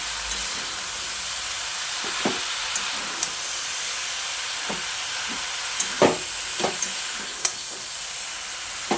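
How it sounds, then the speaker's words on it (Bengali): Spinach stirred into vegetables in a frying pan gives a steady, quiet sizzle throughout, broken by scattered clicks and scrapes of a utensil against the pan. "পালং শাকগুলো দিয়ে একবার ভালো করে নেড়ে চেড়ে সবজির সঙ্গে মিশিয়ে নিচ্ছি"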